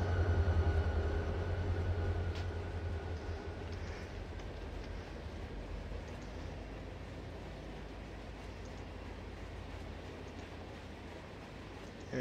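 A freight train hauled by SD locomotives rumbles past as a steady, low, heavy drone with a strong deep engine hum at the start that slowly fades and evens out, and no voices.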